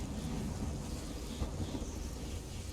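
Thunderstorm in Elder Scrolls Online, a steady loud roar of rain and rumbling thunder filling the whole stretch with no distinct single crack.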